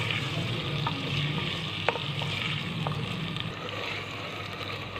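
Sliced tinday, round gourd, sizzling steadily in an oil-filled pan for a Pakistani masala sabzi, a constant bubbling hiss with a few faint clinks of a spoon stirring through it.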